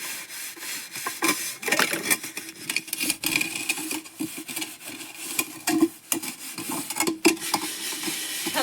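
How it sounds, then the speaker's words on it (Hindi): Dishes are scrubbed by hand on a cold, foggy day, with loud, close rubbing and rasping strokes in an uneven rhythm and brief clinks between them, and no talking. "मैं मांज रही हूँ बर्तन।"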